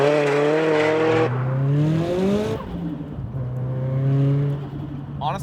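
A 400 hp Nissan Silvia S15 Spec-R pulls hard in second gear on a cold day, its engine note climbing close and loud through two rising sweeps, easing briefly between them.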